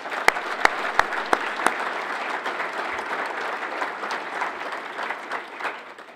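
Audience applause at a city's State of the City address for fiscal year 2017, a steady wash of many hands clapping with a few sharp, close claps standing out near the start, fading slightly toward the end.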